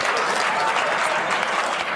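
Loud, continuous audience applause during a stage mind-magic show, a dense wash of clapping that fades slightly at the very end.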